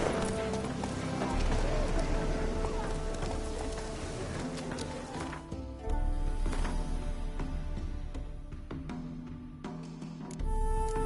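Rhythmic hooves of the horse Roach galloping in The Witcher 3: Hearts of Stone, a steady, fairly loud clip-clop running throughout over game music and ambience.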